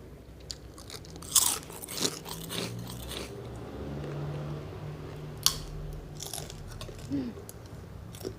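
Crispy pork rind is bitten and chewed alongside spicy papaya salad, giving several sharp, close crunches and steady munching with no talking.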